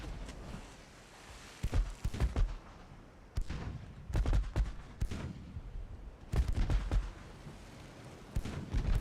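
Naval guns fire in Ultimate Admiral Dreadnought, a run of sharp, booming shots. They come in clustered volleys at about 1.7, 4 and 6.5 seconds, with several quick reports in each group over a low rumble.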